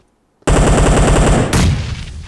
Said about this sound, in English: Someone shot it.